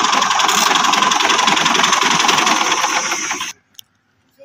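A 2013 Ursus 2812 tractor's engine idles loudly and steadily close by with a fast mechanical chatter, then cuts off abruptly, leaving near silence with a brief small knock.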